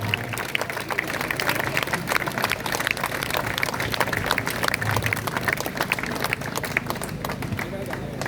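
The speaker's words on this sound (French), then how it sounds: "Merci Alexandre Pat, qu'on peut applaudir encore très fort" Crowd at an outdoor political rally applauding a speaker, dense continuous clapping with a busy, noisy texture and mixed voices underneath, steady throughout.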